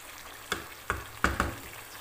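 Chicken sautéing in a pan, a soft background sizzle broken by four sharp scrapes and knocks of the stirring utensil, close by and with no voices.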